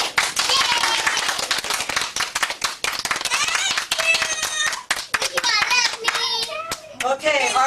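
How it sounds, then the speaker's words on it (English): Clapping for children's puppet performers breaks out in quick, uneven bursts, with children chattering and calling out over and between the claps, close and fairly loud. "Let's give our puppeteers a round of applause."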